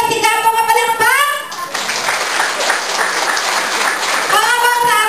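A Christmas party audience bursts into a few seconds of loud, dense clapping, bracketed by someone speaking over a microphone just before and after.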